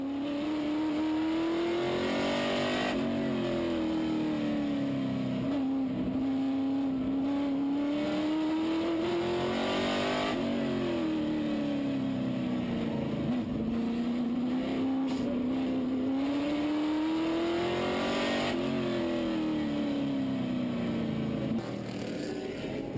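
Race cars battle closely on track, their engines droning continuously with a whine that rises and falls in repeated cycles through corners and straights, loud and unbroken throughout.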